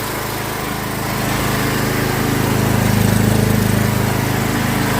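A portable power generator engine runs steadily during a power blackout at a home, a continuous mid-loud drone that swells slightly after the first second and holds without pause.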